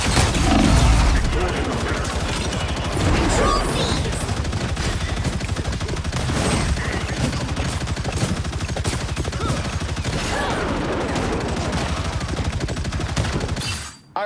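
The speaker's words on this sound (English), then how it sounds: "Punisher's turret is firing." Punisher's turret in the video game Marvel Rivals fires a dense, rapid, unbroken stream of loud gunshots for about fourteen seconds before cutting off, with occasional game voice lines mixed in.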